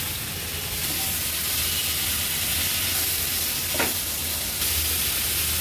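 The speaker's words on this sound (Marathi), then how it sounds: "व्यवस्थित काचऱ्या आपल्याला परतून घ्यायच्या आहेत फोडणीवर" Potato slices sautéing in a spiced tempering with homemade Agri Koli masala and salt, giving a steady, close sizzle with a soft continuous hiss and a brief stirring scrape partway through.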